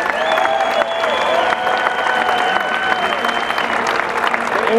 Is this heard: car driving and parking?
no